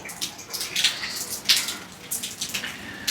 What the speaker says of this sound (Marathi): अशी जर ही धारवरून पडते म्हणजे पाऊस चालू आहे